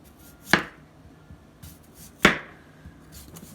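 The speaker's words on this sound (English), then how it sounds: "Let me just do a couple more slices." A knife cuts twice through a crisp, radish-like vegetable, each slice a sharp, close crunch with a quick thud, the two about two seconds apart over quiet room tone.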